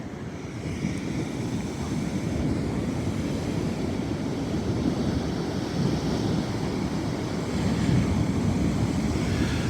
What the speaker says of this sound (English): the ocean is mighty calm. I mean, not calm, but refreshing and